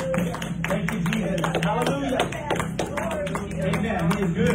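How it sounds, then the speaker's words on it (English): A church congregation gives the Lord a hand clap: quick, regular claps beneath loud voices and a droning musical hum. "I want to give the Lord a hand clap"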